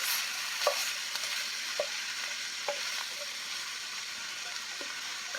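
Food cooks fast in a hot pan, giving a continuous close sizzle with a few sharp pops and the scrape of stirring.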